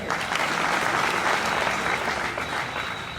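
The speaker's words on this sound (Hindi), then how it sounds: "तालियां बजाइए।" Crowd at a political gathering breaks into steady, sustained applause, loud and dense throughout, with no clear talk over it.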